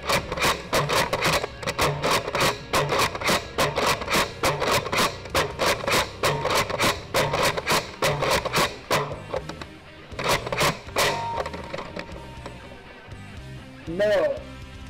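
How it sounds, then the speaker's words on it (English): Nerf Battlescout ICS-10 toy blaster firing foam darts, a rapid run of sharp mechanical clacks for several seconds, then sparser clicks and a short burst near the end. "let's try to fire a couple of darts off this thing"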